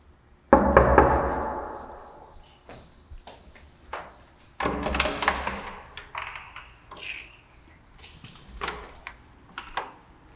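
A door is unlocked and opened indoors, starting with a sharp knock-like clunk and then a run of handle rattles, taps and creaks, loud and close at first and then scattered over a quieter room.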